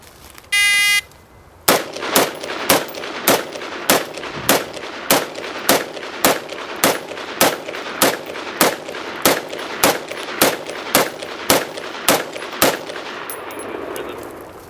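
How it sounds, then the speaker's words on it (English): An AR-15 rifle emptying one 20-round magazine, about twenty loud sharp cracks in a steady, evenly spaced sequence, each with a short echo. A brief electronic beep comes just before the first shot. "Jim's about to demonstrate our next drill shooting an AR-15 with 1 20-round magazine"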